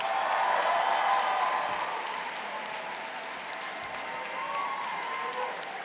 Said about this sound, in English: Please join me for one more round of applause for the Yale Law School class of 2025.